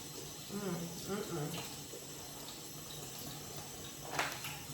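Tap water runs steadily into a sink as shrimp are rinsed, a close, soft splashing stream; a voice speaks briefly near the start and a small clink sounds near the end.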